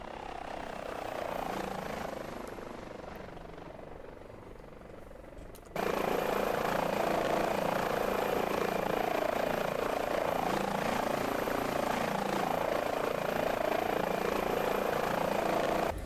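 A medical rescue helicopter in a flight simulator, its steady rotor and turbine drone filling the whole stretch, quieter at first and then jumping sharply louder and holding level to the end.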